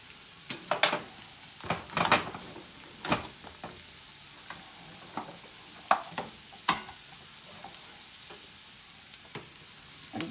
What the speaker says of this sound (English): We're gonna throw our hamburger in.